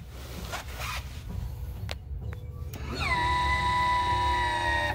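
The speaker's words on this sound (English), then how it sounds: "We'll turn the e-drive on." A Paddleking electric Lo Pro Cruiser boat's e-drive switching on: a few clicks, then a steady electric whine with sustained tones rising in and holding over a low background rumble.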